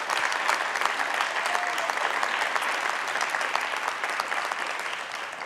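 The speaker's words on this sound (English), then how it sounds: "Let's give him another round of applause," Audience at a Black History Month celebration of diversity giving a performer another round of applause, loud, dense and sustained clapping that fills the room evenly from start to finish.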